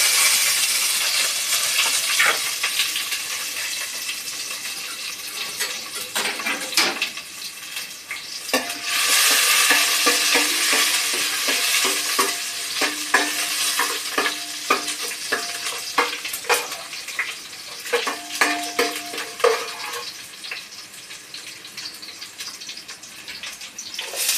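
Fenugreek seeds and finely chopped garlic fry in hot oil for a tomato pickle, a steady close sizzle with scraping stirs and clatters throughout, no talk.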